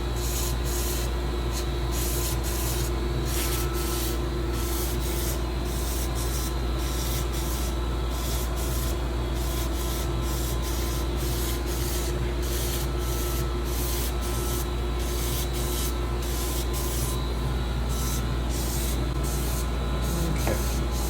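A wooden flintlock ramrod being sanded with 150 grit abrasive tape, a continuous, rhythmic rasping with rapid back-and-forth strokes, close and steady throughout, over a low background hum with no talking.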